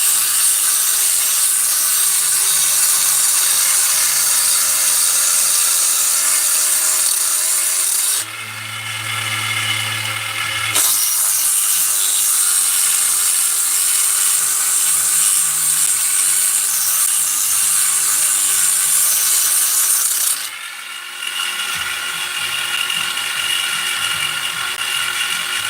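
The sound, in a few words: rotary tool porting engine cylinder with 220 grit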